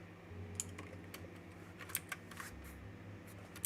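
Quiet, irregular clicking of keys on a computer keyboard, with short bursts of taps and small pauses over a low steady hum from the room.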